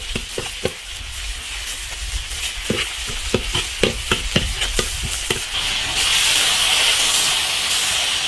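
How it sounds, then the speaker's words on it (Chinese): Ginger, garlic and chili bean paste stir-fried in an iron wok for braised pork trotters, with sharp scraping strokes of the spatula at irregular intervals over a steady sizzle that grows into a louder hiss toward the end. "把它炒香"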